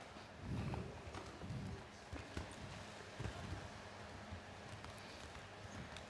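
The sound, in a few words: horse hooves at a show jumping competition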